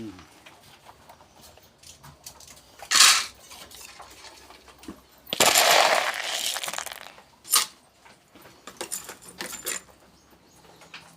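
Metal spoon scooping rabbit feed at a rabbit farm in the morning, with clinking scrapes in short bursts and a couple of longer rattling pours, under soft talking.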